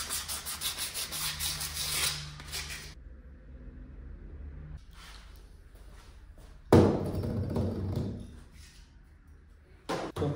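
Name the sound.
light sanding of a brake lining surface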